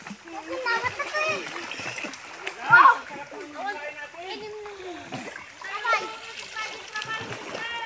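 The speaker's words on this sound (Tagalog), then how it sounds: "So walang sawa talaga yung mga bata guys na maligo." Children splash and play while bathing in cold water outdoors, with water splashes mixed under lively kids' chatter and shouts throughout.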